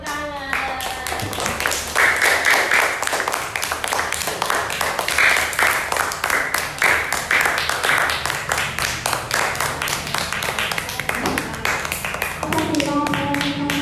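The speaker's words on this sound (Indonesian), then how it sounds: "Nah, tepuk tangan." Children in a group clap their hands together after a decorative craft made from mung beans, sugar and eggs is shown. The clapping is loud, dense and steady for about ten seconds, and voices are heard at the start and the end.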